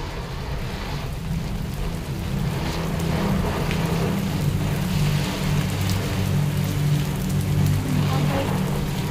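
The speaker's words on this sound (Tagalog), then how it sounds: "sobrang lakas ng ulan" Heavy rain pours steadily and loudly, a continuous dense hiss with a low engine hum from a vehicle running underneath.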